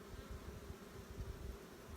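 Honey bees buzz in a low, continuous drone at an open hive after smoking, feeding on exposed honey, faint and steady with no talk.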